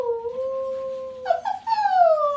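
A person imitates a howl, giving a long sustained wavering tone that breaks into a few short yelping rises before a second drawn-out howl, loud and close, with no other talk.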